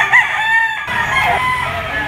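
Rooster crows loudly and close at a busy gamecock market in Lipa, Batangas, with a long drawn-out call and other birds and voices murmuring in the background.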